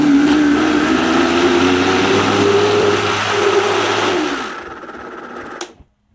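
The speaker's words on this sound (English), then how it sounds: "This is the damper for the Vitamix. I'm gonna put this on slow." A Vitamix blender on slow speed with the damper in, mixing cassava pone batter, gives a loud, steady motor whir for about four seconds, then winds down and stops.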